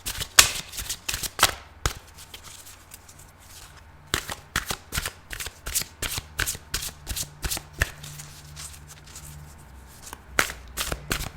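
Tarot cards being shuffled in bursts of quick, crisp riffling slaps, close and loud, with a pause of a couple of seconds between rounds and no talking.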